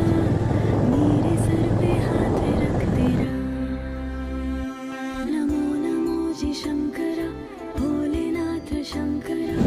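A motorcycle engine drones steadily on the hill road up to Tungareshwar Mahadev, shifting from rough low rumble to a higher straining whine as it climbs, with pitch rising and dipping.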